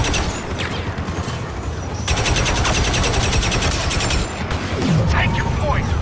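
Rapid automatic gunfire from a Star Wars Battlefront II firefight on Jakku, with dense bursts of blaster shots that swell loud and continuous for several seconds amid battle noise.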